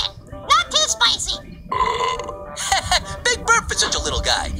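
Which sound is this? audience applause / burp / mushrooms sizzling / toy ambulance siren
burp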